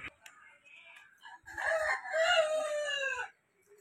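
A rooster crows once outdoors beside a house with a chicken coop, a single loud, drawn-out call with a few faint clucks and rustles before it.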